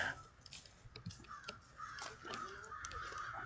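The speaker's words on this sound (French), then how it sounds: "hear that? Entends ça, les corbeaux." Crows cawing outdoors, with several harsh, fairly distant calls overlapping across a few seconds over faint background noise.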